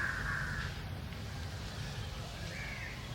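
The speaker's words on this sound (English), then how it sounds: "actually listen to those crows" A pair of distant crow caws during a 1974 public talk in Madras, one near the beginning and one near the end, against faint outdoor background noise.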